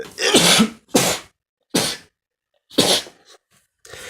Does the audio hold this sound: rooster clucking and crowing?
no